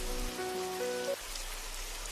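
Steady rain pours down by a roadside tea stall, a dense even patter on surfaces with a faint tonal whine briefly over it, no voices.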